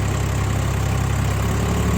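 A new 855 tractor's engine runs steadily in first high gear, a loud, continuous low diesel rumble and drone holding close and even for the whole stretch with no talk over it.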